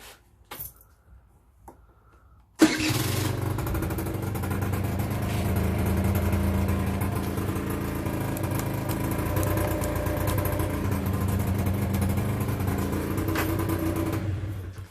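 After a short quiet start, a 2005 Peugeot Vivacity 50 scooter engine fires up abruptly and settles into a steady, buzzing idle that continues close by.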